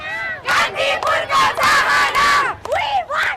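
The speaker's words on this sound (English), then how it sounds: "The crowds cheered as they passed the office of Kantipur newspapers" A large crowd of protesters cheers and shouts while marching through the streets of Kathmandu during Nepal's 2006 people's movement, loud rising and falling roars in several swelling waves.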